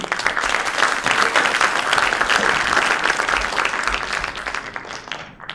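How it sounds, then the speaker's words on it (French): Audience applause fills a conference hall after a health talk, steady dense clapping from a large crowd lasting several seconds before tapering slightly at the end. "On va remercier et applaudir"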